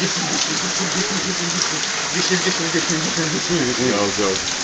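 Steady rain pours down, a dense continuous hiss of drops on surfaces, with a voice speaking faintly underneath.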